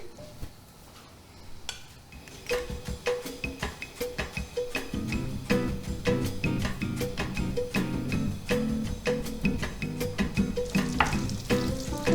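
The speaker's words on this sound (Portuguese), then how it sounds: "Agora entra a carne e a páprica. Panela quente." Beef and paprika hit a hot pan with butter and olive oil and sizzle loudly and steadily, with sharp crackles and pops building as it fries.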